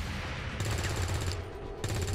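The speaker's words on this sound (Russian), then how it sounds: "Вот эта стрельба" Muffled gunfire from a strategy shootout in XCOM 2, rounds fired up through a floor: a dense, continuous rattle of bursts with heavy low thumps, spread over a couple of seconds with brief dips in intensity.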